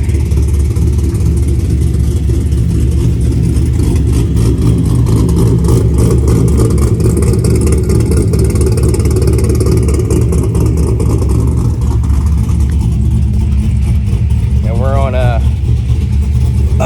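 A loud, choppy Chevrolet Corvette C6 V8 idle with GPI SS3 cam and stock converter, uneven loping rhythm, runs continuously, close up, and someone speaks briefly over it toward the end.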